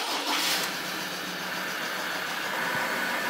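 A Ford Ranger diesel engine fresh from an oil change idles steadily and close by, a continuous even rumble with a slightly brighter burst in the first half second, no voices present.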